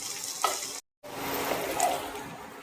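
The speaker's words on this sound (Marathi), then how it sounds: "आता हे लाल होईस्तोपर्यंत, गुलाबी रंगापर्यंत येईपर्यंत आपण परतून घेऊया." Onion sautéing in a pan for a dried bombil masala, giving a steady close sizzle with the light scrape of stirring, briefly cut to silence partway through, with no voices.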